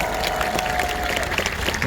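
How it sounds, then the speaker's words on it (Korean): Political rally audience applauding after a call for a salute of applause, a brief, steady wash of crowd clapping throughout with a faint tonal hum beneath. "경례의 박수 부탁드립니다"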